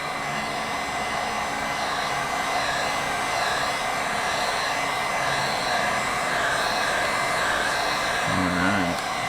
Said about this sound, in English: Now I don't want to hover the heat gun over one spot for too long